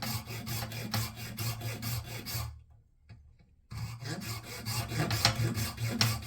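Steady rasping strokes of a hand saw cutting grooves in the plastic of a broken freezer compartment door, rhythmic and close, with a brief pause in the middle before the sawing resumes.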